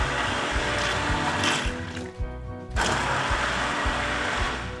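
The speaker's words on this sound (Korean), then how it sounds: "싹 골라내신 다음에 핸드블렌더로 곱게 갈아주세요" A hand blender grinds peeled chestnuts into a fine purée, whirring steadily with rhythmic low thumps, briefly thinning in pitch before returning to a full churning drone.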